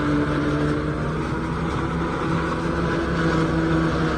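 A 3630 and a 5911 tractor in a pulling contest give a steady, loud engine drone under load, holding a constant strained pitch without pauses.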